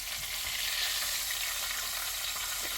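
Paprika-coated chicken skin sizzles and crackles in a pan during a one-pan chicken and rice dinner, a steady, loud, close frying hiss with no voices.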